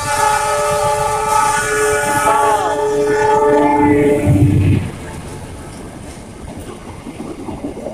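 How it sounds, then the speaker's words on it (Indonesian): The Argo Wilis passenger train passes near Cibatu, Indonesia, sounding a loud, sustained multi-tone horn before heavy rumbling and steady wheel clatter take over, with a voice briefly heard. "itulah kereta api Argo Wilis"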